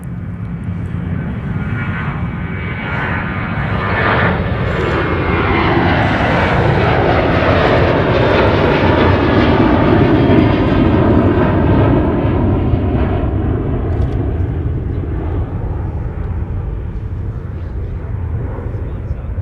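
Frontier Airlines jet landing on runway 30 left at Minneapolis–Saint Paul airport, a loud sustained engine roar swelling and then slowly fading over many seconds.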